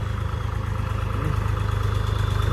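A tractor engine idling at a village trolley-pulling competition, with a steady low rumbling throb, close by and continuous, with no talking.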